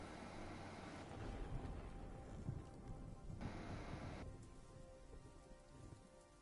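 Steady rain patters on a surface inside a video game with thunder, a dense continuous hiss with low rumbling swells, fairly faint and without voices.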